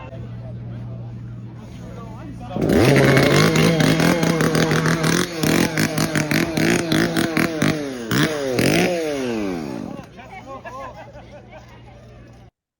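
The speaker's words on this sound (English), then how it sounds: "I actually have a video of you playing with your chainsaw we could load up right now" Chainsaw roaring in bursts after a quieter start, its pitch revving up and down with sweeping rises before dropping back to a low idle; other people talk faintly in the background.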